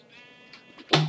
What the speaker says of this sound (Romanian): Uite și o oaie.